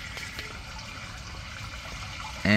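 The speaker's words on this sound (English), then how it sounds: "hear the water that's constantly running" Water runs constantly inside a drain cleanout pipe fed by a slab leak under a house, a steady close hiss and trickle throughout, ending in a sudden louder burst of noise.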